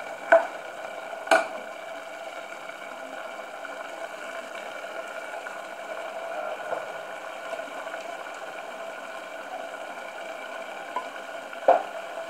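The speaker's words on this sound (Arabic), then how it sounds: "ملي كنحسو بهي ديك التومه كطيب لينا" Garlic frying in oil in a covered pot, with a soft, steady bubbling sizzle throughout and a few sharp clicks or taps at scattered moments.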